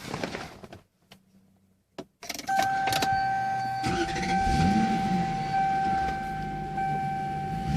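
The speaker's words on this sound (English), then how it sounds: "That beautiful Lexus SC note is alive and well." A 1993 Lexus SC400 engine cranks briefly after a near-silent pause, then catches and settles into a steady, fairly loud idle with a clear sustained tone over the running hum.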